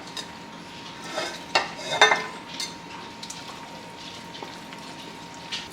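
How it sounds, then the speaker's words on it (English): Corkscrew pasta stirred into a cheese sauce for mac and cheese, heard as soft wet scraping and a few clinks of a spoon on the pot, close and fairly quiet, with a burst of activity midway. "I'm mixing it up really good so the cheese sauce gets inside of the corkscrew pasta"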